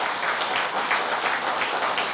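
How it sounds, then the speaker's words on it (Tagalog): Dense, sustained applause from a church congregation clapping in worship, many hands blending into an even, continuous wash with a faint pulsing rhythm throughout. "Come on, clap your hands."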